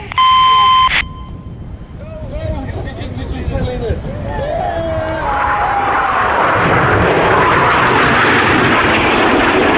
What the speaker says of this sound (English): He's joining Monty now for double roll